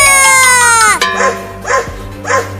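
A dog barks three times in a Hindi Holi comedy cartoon. The barks come in short, loud, evenly spaced bursts after a sliding tone.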